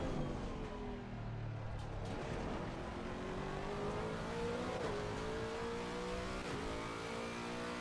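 A Lexus racing car engine in Assetto Corsa Competizione drones and revs continuously, pitch climbing through the gears and dropping back, loud and close with no talking.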